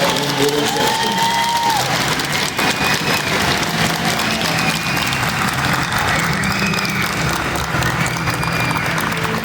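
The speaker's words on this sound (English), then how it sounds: "please join us in a round of applause for the United States Army" Crowd applauding and cheering at an Army graduation ceremony on a parade field at Fort Benning, Georgia, steady clapping with whoops and shouts, an engine rumbling underneath.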